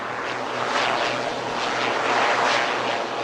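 A HAL HJT-36 jet trainer flying at the Aero India air show, giving a loud, continuous broadband jet roar that swells slightly as it passes, with no talk.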